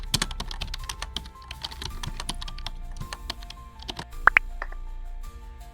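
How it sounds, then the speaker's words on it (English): Rapid keystrokes on a computer keyboard as a password is entered at a login screen, a close, steady run of clicks with a couple of sharper taps near the end and no talking. "Then type your password."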